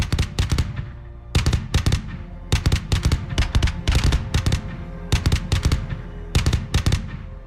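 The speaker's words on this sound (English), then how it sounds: "Here, we see a Ukrainian BMP-2 advancing directly toward Russian trenches, opening fire and cutting down everything in its path." A Ukrainian BMP-2 infantry fighting vehicle firing during an advance on enemy trenches, heard as loud, close bursts of rapid heavy gunfire in short volleys separated by brief pauses, with a rumbling low background.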